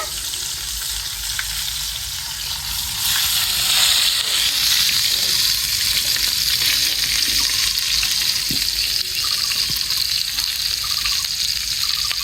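Steady, loud sizzling of fish frying in oil, a continuous crackling hiss that swells slightly and holds, with occasional faint clinks.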